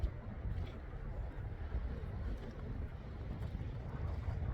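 Cold, strong wind blows by the Bhaga river on a mountain road, a low, steady, rumbling buffet against the microphone that lasts throughout at a fairly faint level.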